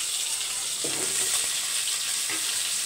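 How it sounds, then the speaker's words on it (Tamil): Curry leaves, added with green chillies, splutter in hot oil as a steady sizzle with a sharper burst of crackling partway through, close and alone. "இது கூடயே கருவேப்பிலை. நல்லா பொரிஞ்சு வந்தோடனே"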